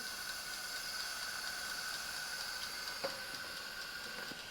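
Russell Hobbs food steamer running with eggs and rice inside, a steady faint hiss of steam with a low droning hum and one soft click, heard close and alone without talk.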